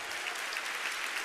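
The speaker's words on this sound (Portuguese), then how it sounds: "Você pode aplaudir o Senhor." Church congregation applauding during an evening worship service at a Baptist church, a steady dense wash of clapping hands throughout, fairly close and filling the space.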